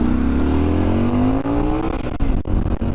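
Loud, continuous wind and engine roar buffets a lavalier mic placed by the helmet padding while riding, with a rising engine pitch and occasional thumps and rustles.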